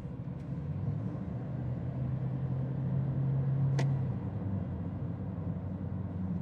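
A 2019 Toyota Corolla Sport GZ Hybrid accelerating on a road in Bangladesh, heard from inside as a steady engine hum over road rumble, with a droning tone that rises briefly and a short high squeak midway.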